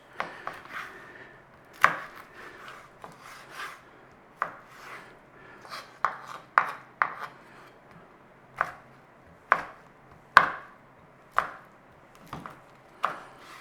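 Knife chopping potato into cubes on a board for a thick ham and vegetable soup: a run of sharp, close chops at an uneven pace, some in quick pairs, with soft scraping between strokes and no talk.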